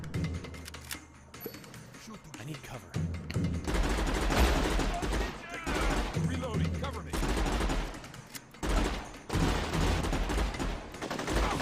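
Rapid bursts of gunfire from the shooter game Unearthed, loud and dense with a few brief gaps, rolling on almost without pause across the whole stretch.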